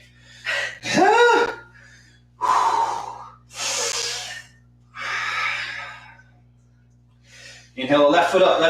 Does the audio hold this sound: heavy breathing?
yes